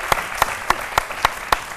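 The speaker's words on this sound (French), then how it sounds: "on applaudit très fort" The audience of a midday television show claps together in a steady rhythm, making six sharp, evenly spaced claps that ring out loudly.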